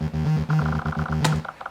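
A mono Ableton Analog bassline built on a single saw oscillator, for lo-fi house, plays a low, buzzy, pulsing line with notes sliding into one another, steady and close with a brighter upper layer briefly appearing near the end.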